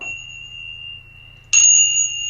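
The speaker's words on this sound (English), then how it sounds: "we also have chimes as well" A children's yoga chime sounds, used in early-years sessions. A clear ringing tone hangs in the air, then a fresh bright strike halfway through brings a louder, shimmering ring that sustains to the end.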